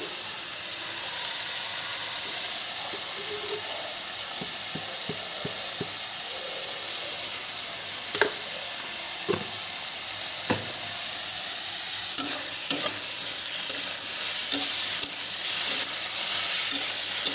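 Water lily (shapla) greens stir-fried in a pan with garlic and salt, a continuous hissing sizzle with occasional clicks and scrapes of stirring that grow busier toward the end, no voices.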